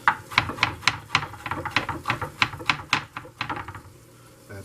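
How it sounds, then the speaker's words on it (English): A knife slices onions thinly on a cutting board in a home kitchen, a quick steady series of crisp close-up chops that slows and stops near the end. "Just want to slice those up pretty thin too."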